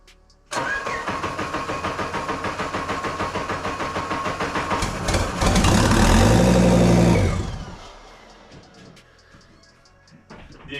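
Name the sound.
5-cylinder Miata engine starting for first time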